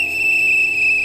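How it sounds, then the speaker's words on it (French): A single shrill, steady whistle tone held for about a second, loud and close. "Il faut donner un coup de sifflet, je vous assure."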